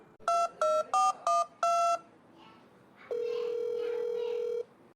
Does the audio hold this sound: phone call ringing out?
yes